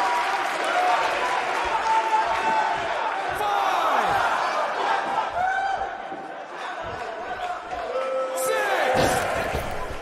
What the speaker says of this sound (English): Would you listen to this crowd? They're absolutely electric.